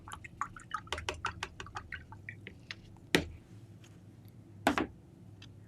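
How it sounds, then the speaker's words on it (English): A large paintbrush used for acrylic painting is rinsed in a water container, producing a quick series of close splashy taps and clinks, then two louder sloshes after a pause. "Rinsing out the big brush."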